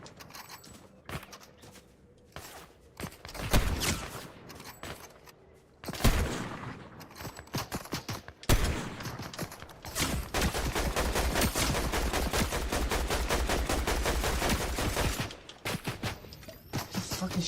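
Rapid automatic gunfire from the Fortnite video game, with scattered shots early on, then dense sustained bursts of fire through most of the clip, loud and close.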